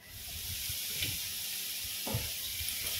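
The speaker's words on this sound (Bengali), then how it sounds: "এবার ওই সিদ্ধ করা আলু আর এঁচোড়টা একটু ভেজে নেব" Boiled potato and young jackfruit frying in hot mustard oil give a steady close sizzle and hiss, with faint scraping stirs now and then.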